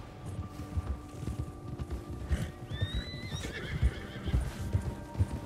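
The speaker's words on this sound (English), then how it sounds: "Look at his horse in front of us." Horse hooves clop steadily in Red Dead Redemption 2, with close, loud, rhythmic thuds of a horse moving, a brief high whinny-like call in the middle, and a low background hum.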